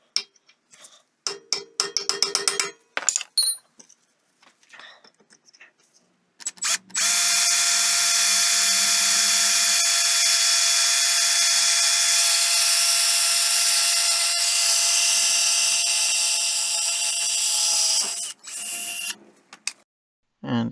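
A power drill whines at high, even pitch for about eleven seconds as it bores a hole into the body of a Chevrolet Cruze with a 1/8 bit, preceded by a few short clicks and bursts of handling noise.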